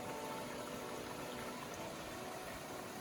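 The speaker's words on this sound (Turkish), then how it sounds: "yaprakların sesi, suyun sesi" A soft, continuous wash of stream water flowing with faint rustling leaves in a village near Köyceğiz, Turkey, quiet and steady throughout.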